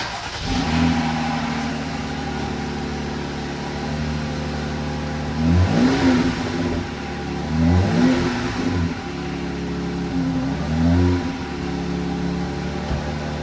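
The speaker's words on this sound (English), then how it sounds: "I'm going to sit you right down here by the exhaust so you guys can hear this" A 2025 Jeep Gladiator engine cold-starts and idles steadily, heard up close at the exhaust, with three or four short revs rising and falling before settling back to idle.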